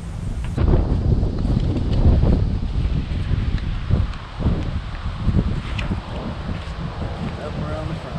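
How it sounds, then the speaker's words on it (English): Wind gusts roar across the microphone in a continuous low rumble, with occasional faint knocks and rustling. "It's a little windy today."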